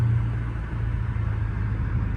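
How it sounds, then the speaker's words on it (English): A straight-piped Chrysler 300 drives through a tunnel with a deep, steady exhaust drone and low rumble that stays loud and even throughout, with no voices. "if y'all are wondering what exhaust setup I am running, I am just running a straight pipe"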